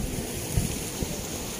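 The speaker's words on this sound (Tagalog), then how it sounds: "Ang pisik sa dagat ba kay abot gay diari no?" Sea waves splashing near a boardwalk, with a couple of soft low thumps from the water over steady wind rush and surf hiss, close to the microphone and without any talk.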